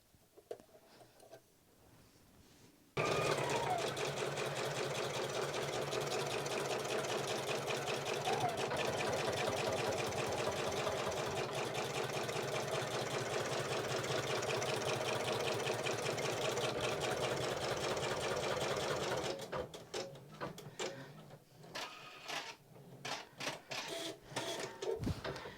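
A sewing machine starts and stitches at a steady, fast mechanical pace for about sixteen seconds, loud and close, then slows to softer intermittent whirring and clicks.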